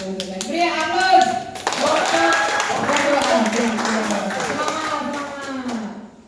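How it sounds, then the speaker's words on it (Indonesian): An audience at a national Quran quiz final claps, starting as scattered taps and swelling into steady applause lasting several seconds, with a voice speaking over it at the start. "Beri aplaus."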